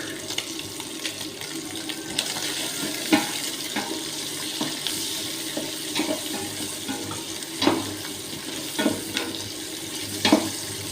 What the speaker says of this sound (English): I'm adding my garlic.